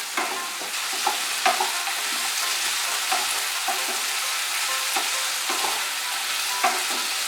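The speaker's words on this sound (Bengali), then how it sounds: "শিম আর আলুটা একটু ভেজে নেব" Flat beans and potatoes frying in a pan, with a steady sizzle throughout and periodic scraping stirs of a utensil against the pan, close and clear, with no talking.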